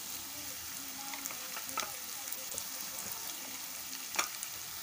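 Chickpeas frying in a pan with turmeric, salt and chili, a steady low sizzle with a few sharper spatters and stirring scrapes, heard alone without voices.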